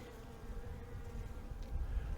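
Honeybees buzzing during a hive inspection, a soft continuous drone close by, with no talk.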